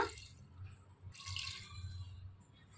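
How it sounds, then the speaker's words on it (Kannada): Water, the rinse left from grinding spices, is poured into a pressure cooker pot of frying sambar masala. It gives a soft, faint splashing trickle that starts after a brief pause and continues quietly to the end. "ಈಗ ನಾವು ಸ್ವಲ್ಪ ನೀರು ಹಾಕ್ಕೊಂಬಿಡೋಣ."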